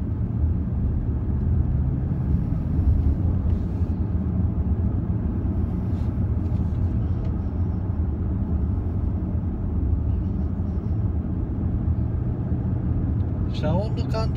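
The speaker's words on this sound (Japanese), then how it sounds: "車速としては30キロぐらいで今エンジンかかりました。" Petrol engine of a Lexus LC500h hybrid running while driving at about 30 km/h, a steady low rumble with road and wind noise inside the cabin, while someone talks over it.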